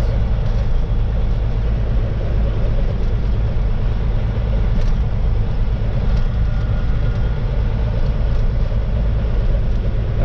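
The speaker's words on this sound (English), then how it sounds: "The only time I use my throttle as cruise control. It's crawling down gravel roads." A cattle truck crawls slowly down a gravel road at about 15 mph, its engine giving a steady, loud, unbroken rumble with road noise throughout.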